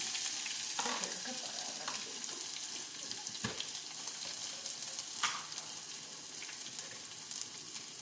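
Garlic and ginger frying for a masala rasam, a steady close sizzle with occasional stirring scrapes and clinks in the pan.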